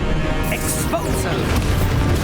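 Exposo explosion spell cast in the Hogwarts Legacy video game, a loud crashing blast with smashing debris over continuous game noise and a voice.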